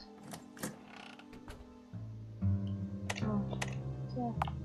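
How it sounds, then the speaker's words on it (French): A few small mechanical clicks and clacks sound like a lock catching, set against a steady low synthetic drone and soft background tones. "Vous entendez un déclic d'une serrure."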